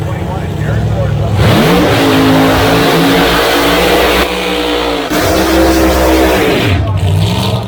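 Drag race cars launching at an outlaw 632 and Pro Modified door slammer event, including a 1971 Mustang: loud, sustained engine roar with rising revs and gear changes throughout, an announcer talking over it.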